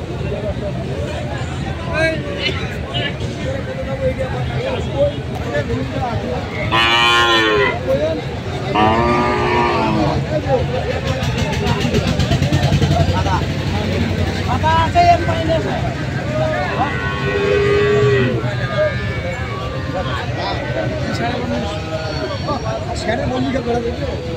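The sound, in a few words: cattle mooing at livestock market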